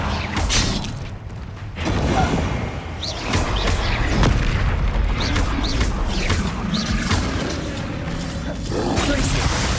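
Confringo explosion spells go off in a Hogwarts Legacy goblin battle, a string of booms and crackling blasts mixed with mechanical clatter and other spell effects, loud and continuous.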